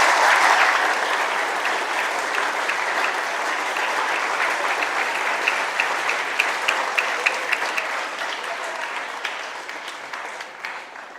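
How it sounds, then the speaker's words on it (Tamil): Sustained applause from a school assembly audience of students, steady dense clapping that fills the hall and tapers slightly toward the end, with no talking. "அவங்களுக்கு இன்னொரு ஒரு முறை நல்ல பாராட்டு தெரிவிப்போமா உங்களுடைய கரகோஷத்தோட?"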